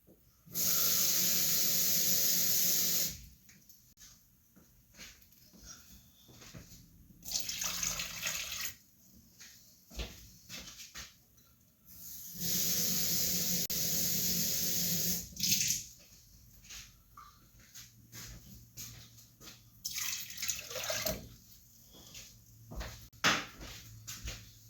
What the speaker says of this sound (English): Now I gotta add 2 cups of cold water.